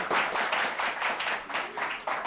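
Audience at a Christmas special performance clapping steadily, a dense patter of many hands filling the short stretch at moderate loudness without any voices.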